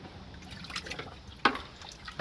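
Clean warm water sloshes and drips in a bucket used for rinsing during a Jeep Grand Cherokee seat belt fix, soft splashes with one sharper splash midway.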